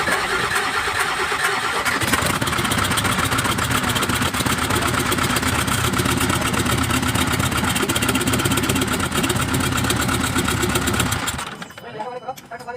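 An Isuzu 4HK1 diesel truck engine, just reassembled after a top overhaul, cranks and catches, then runs with a loud, steady rumbling idle for several seconds before cutting out; voices are faintly audible.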